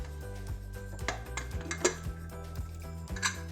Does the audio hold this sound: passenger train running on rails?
no